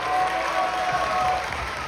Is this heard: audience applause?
yes